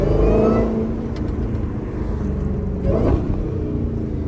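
A 700-horsepower Dodge Hellcat accelerates on a city street, its engine a deep, loud rumble that swells briefly near the end, with no talk over it.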